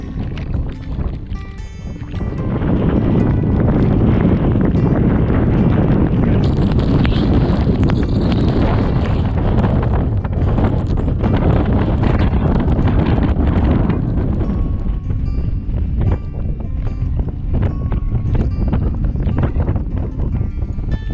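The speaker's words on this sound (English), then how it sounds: "The wind's coming in quite strong" Strong wind buffeting the microphone near the summit of Skiddaw on a wet hike in the Lake District: loud, continuous roaring gusts that swell after a couple of seconds and stay heavy throughout.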